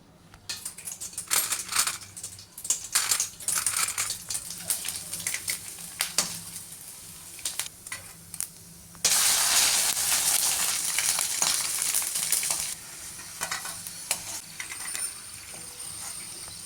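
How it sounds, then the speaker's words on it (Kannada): Rice flour kurudige frying in oil gives a steady crackling sizzle with scattered pops, jumping louder and fuller partway through as more pieces hit the oil, with no voices. "ಈಗ ಎಣ್ಣೆ ಹಾಕಿ ನೋಡಂಬರ್ರಿ."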